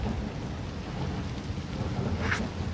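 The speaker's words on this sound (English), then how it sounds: "it's not a storm, it's just rain. Just boring old rain." Steady, dense rainfall hisses continuously at Huntleys Point, Sydney, a broad wash of noise with no voices, close and moderately loud throughout.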